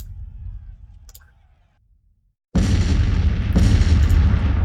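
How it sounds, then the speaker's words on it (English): Counter-battery artillery fire in Grand Tactician: The Civil War: after a near-silent lull, a heavy cannon barrage booms in loudly and keeps rumbling with a second strong blast. "Pendleton's taking some counter battery fire."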